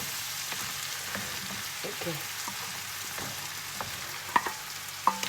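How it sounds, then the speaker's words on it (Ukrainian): Cabbage frying in a half-covered pan, a continuous close sizzle with irregular stirring scrapes and a couple of sharp metallic clinks near the end, no voices. "я отак закриваю кришкою на пів і перемішую"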